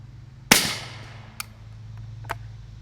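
A suppressed rifle firing 220 grain subsonic rounds through a Rex Silentium MG7 suppressor gives one sharp, fairly loud crack with a short decaying tail, followed by two faint brief clicks.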